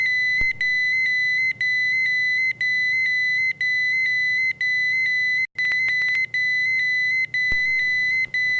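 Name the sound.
gas detector alarm beeping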